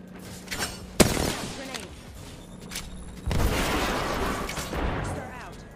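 Apex Legends match combat: a sharp grenade blast near the one-second mark, then a dense stretch of rapid gunfire and explosive booms, loud and close, with game voices calling out between.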